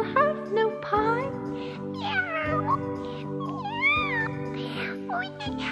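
Several cartoon kittens meow in a story-song about lost mittens, a string of wavering, high-pitched cries layered over steady background music, close and loud.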